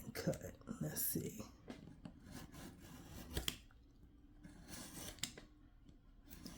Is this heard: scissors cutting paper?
yes